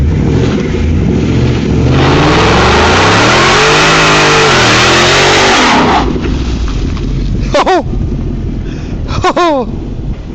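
A 2012 Ford Mustang GT 5.0 with a Borla ATAK exhaust revs loudly and roars close by for several seconds while doing a tire-smoking burnout, then the engine drops off and people chatter and whoop afterward.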